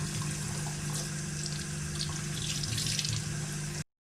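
Running tap water pours into a sink over shibori tie-dyed fabric being rinsed, a steady close splashing flow that cuts off abruptly at the end.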